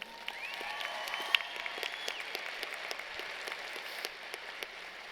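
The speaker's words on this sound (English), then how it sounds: "Give yourselves a round of applause for this accomplishment." Graduates at a University of Memphis commencement ceremony applaud, a hall-wide patter of many hands heard from a distance, fairly soft with scattered sharper claps and a faint whistle near the start.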